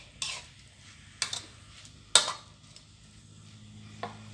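Frog and pickled bamboo shoots being stir-fried in a pan, a few distinct clanks and scrapes of a utensil against metal spaced seconds apart over a low steady background hum.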